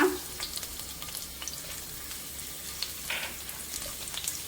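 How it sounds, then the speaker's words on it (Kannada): Chopped garlic fries in hot oil over a high flame for fried rice, giving a soft, steady sizzle with faint crackles and a brief stir near the start. No one speaks. "ಈ ಥರ ಎಣ್ಣೆ ಬಿಸಿ ಆದ ನಂತರ ಈಗ ಹೆಚ್ಚಿಟ್ಕೊಂಡ ಬೆಳ್ಳುಳ್ಳಿಯನ್ನು ಹಾಕೋಣ."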